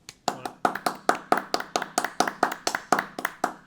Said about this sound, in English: Round of applause from both of us.